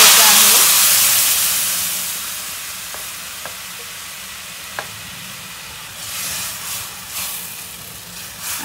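Cooked colocasia goes into a tempering of homemade red masala and turmeric. A loud burst of hissing steam and sizzle fades to a softer fry, with a few sharp spoon clinks and stirring swells later on.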